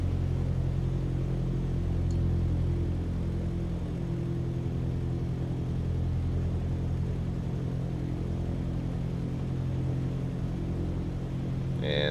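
The propeller engine of a Cessna 152 in Microsoft Flight Simulator 2020 drones steadily from inside the cabin, a constant low rumble that eases slightly as the throttle is pulled back.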